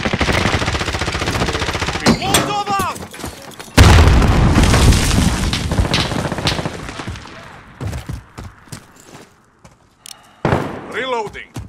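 Gunfire in Call of Duty: Modern Warfare: loud bursts of automatic fire and heavy booming shots come in clusters with brief lulls, while voices speak over the action.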